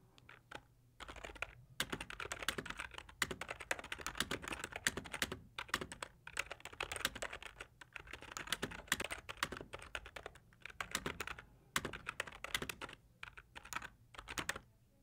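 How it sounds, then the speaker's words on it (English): Fast, continuous typing on a computer keyboard, close and clear, with irregular bursts of key clatter and brief pauses between runs, no voices. "So here I'm just typing"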